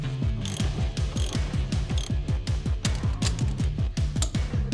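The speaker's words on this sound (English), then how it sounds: "finish tightening and torquing the single upper mounting nut" Ratchet wrench tightening the single upper strut mounting nut on a 2005 Mercedes-Benz C230 Kompressor Sport, a steady run of close, loud rapid clicks repeating evenly for several seconds with no talk.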